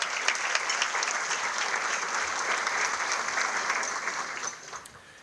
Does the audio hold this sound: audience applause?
yes